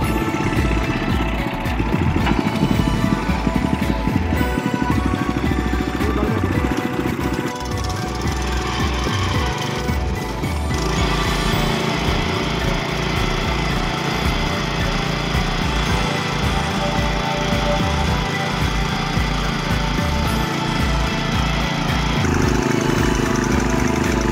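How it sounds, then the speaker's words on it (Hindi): Earth auger machine boring a hole with a 16-inch bit, a loud continuous mechanical engine drone with rough churning texture that holds steady throughout, no talk. "अभी ये 16 इंच का बिट लगाया है हमने। अभी इसके साथ इसको होल करेंगे।"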